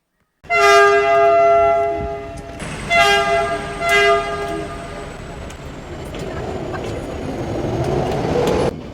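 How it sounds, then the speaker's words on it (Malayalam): A train horn blares twice, a long blast then a shorter one, followed by the close rumble and clatter of the Nilgiri Mountain Railway toy train arriving at Ooty. "ദോ വരണം നമുക്ക് പോകാനുള്ള ഊട്ടിയിലെ ടോയ് ട്രെയിൻ"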